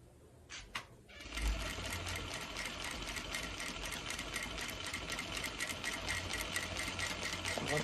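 Sewing machine stitching a fabric headband along the edge of the presser foot, starting after a couple of small clicks and running as a steady, fast mechanical whirr.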